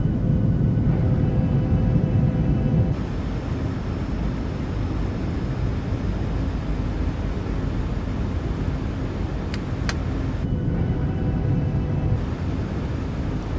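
A PMDG 737-800 airliner in the MSFS 2020 flight simulator with its flaps extended, its broad, steady airflow and engine roar filling the cabin at constant loudness and briefly shifting in tone, with no voices.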